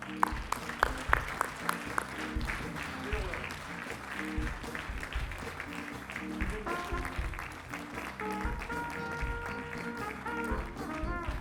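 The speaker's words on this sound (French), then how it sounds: "On l'applaudit." Applause rises from an audience at a French-language gala as a scholarship recipient is called to the stage, with loud claps up front over steady music with pulsing bass and tonal lines running throughout.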